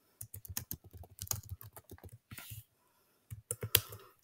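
Keys clatter on a computer keyboard as a SQL select query is typed, close and crisp, in two quick bursts of rapid keystrokes separated by a short pause.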